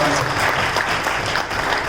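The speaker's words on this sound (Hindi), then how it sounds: "तो निगम जी के लिए भी एक बार जोरदार तालियां हो जाए।" An audience at a stage event breaks into loud, sustained applause, a thick continuous patter of many hands clapping up close that stays strong throughout.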